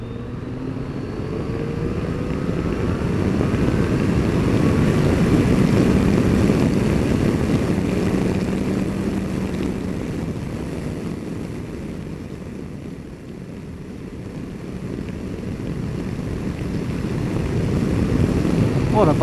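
A Yamaha Tracer 900 GT motorcycle being ridden, with a steady, loud engine drone and rushing wind noise that rise and fall slightly as the bike moves along.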